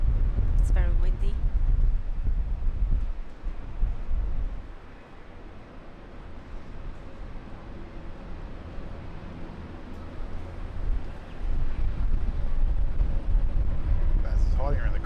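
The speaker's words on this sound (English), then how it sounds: "It's very windy." Strong wind buffets an outdoor microphone at Brisbane Airport, a loud rushing roar that surges, eases in the middle and gusts up again toward the end, close and continuous.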